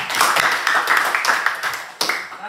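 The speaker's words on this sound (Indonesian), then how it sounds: "Tepuk tangan." A classroom of students claps briefly, a loose burst of handclaps with uneven rhythm and a sharp final clap, close and fairly loud.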